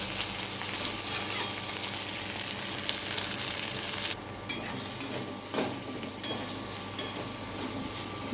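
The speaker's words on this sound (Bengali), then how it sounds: "এটা একটু কষে নেবো" Ingredients for masoor lentil dal sauté in a hot pan with a steady, dense sizzle and occasional soft clatters from stirring, heard close up with no talking.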